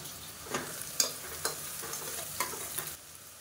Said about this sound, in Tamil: இப்போ வெங்காயம் கொஞ்சம் நல்லா கோல்டன் கலரில் வதங்கட்டும்